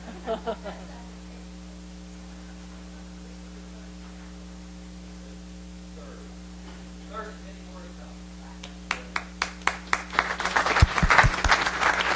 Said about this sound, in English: I need to give you a round of applause, sir